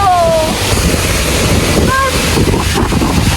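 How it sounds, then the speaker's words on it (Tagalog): Bumadok Falls, a waterfall in Sagada, pours with a steady, loud broadband roar of rushing water that fills the whole clip, with a couple of brief faint whistle-like tones over it. "I get the chance to see this mesmerizing Bumadok Falls"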